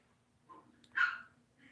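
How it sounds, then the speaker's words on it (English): Puppies play-fighting in the background, one brief high yip or bark standing out among faint growly scuffling sounds, distant and quiet. "The puppies are fighting in the background."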